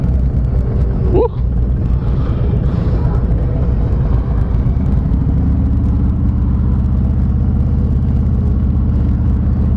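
A Harley motorcycle engine rumbles low and steady while riding, with wind noise over it and the tone settling into an even drone partway through; a short vocal exclamation cuts in briefly near the start.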